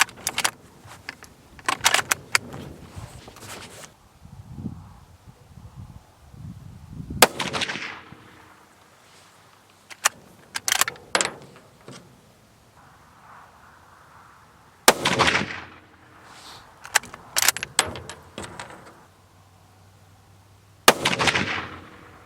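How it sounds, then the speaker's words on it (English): A Ruger American Ranch rifle in 7.62x39 fires unsuppressed: several loud, sharp cracks spaced seconds apart outdoors, with ringing echoes and faint handling clatter between shots. "The first 3 shots are going to be with the suppressor off."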